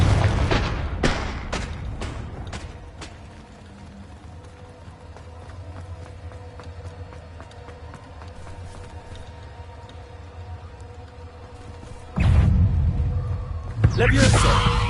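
Fire spell explosions in the Hogwarts Legacy video game: a quick run of sharp, booming blasts with rumbling low end, a long stretch of quieter rumble, then another loud burst of blasts near the end.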